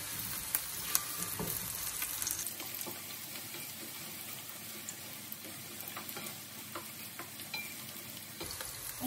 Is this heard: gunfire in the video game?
no